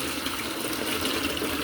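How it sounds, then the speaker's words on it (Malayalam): Water from a basin holding pet fish is poured out in a continuous close, splashing rush that stays even throughout. "ഇപ്പോൾ ബേസിൻ്റെ വെള്ളം ഒഴിക്കുകയാണ്."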